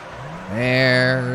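A car in Need for Speed Underground 2 drifts, its engine note climbing to a loud, steady whine with a high tire squeal layered on top for about a second.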